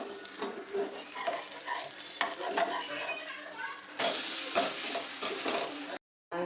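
Ada dosa frying in oil on a pan: a close, steady sizzle broken by spatula scrapes and stirring clatter, with faint talk, ending in a brief cut to silence.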